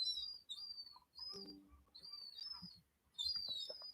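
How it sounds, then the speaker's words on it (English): Small birds in a home garden chirp and tweet in short high bursts, several calls overlapping in quick succession, fairly faint and clear with no talking. "here we are in the middle of the garden with all my little birds"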